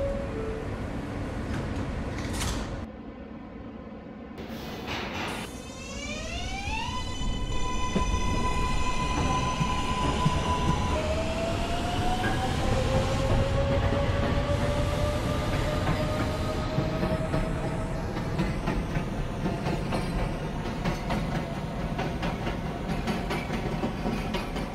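A Kawasaki R143 subway train on a Manhattan-bound M run in a rail simulator hums and whines as it accelerates from a stop, rising motor tones climbing steadily, then a sustained rolling rumble with faint clickety-clack of the rails.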